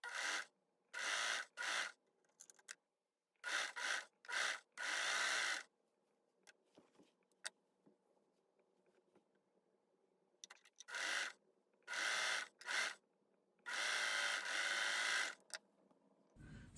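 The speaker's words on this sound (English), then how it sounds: "let's go over to the machine. And I'm sewing the sleeves together at the shoulder." Sewing machine stitching sleeves together at the shoulder of a child's romper, heard as several short bursts of fast whirring stitching separated by quiet pauses, with a longer run near the end.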